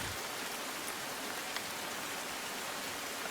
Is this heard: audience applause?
no